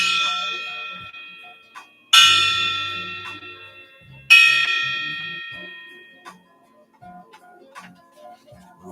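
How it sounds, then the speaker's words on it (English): A resonant bell is struck three times, each ring clear and loud, then decaying slowly into quiet with a few small knocks between strikes. "Let's ring the bell."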